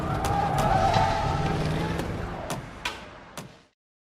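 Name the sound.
car speeding away in a hurry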